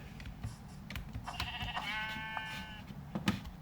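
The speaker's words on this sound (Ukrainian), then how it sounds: "О, дві вівці" Minecraft sheep give a single wavering bleat in the middle of faint background clicks and taps, at a low overall level.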